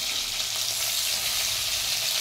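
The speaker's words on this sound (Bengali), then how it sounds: "এই যে ভোলা মাছ ভাজা বসিয়ে দিয়েছি, প্রায় হয়ে গেছে" Red bhola fish frying in a pan, a dense, even sizzle heard close and loud with no pauses or talk.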